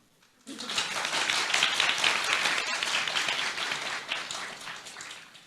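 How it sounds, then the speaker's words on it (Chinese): Audience applause at a political speech in Taiwan breaks out suddenly after a brief pause, dense and even clapping from a sizeable crowd that holds steady for several seconds and then eases slightly. "应该要掌声吧？"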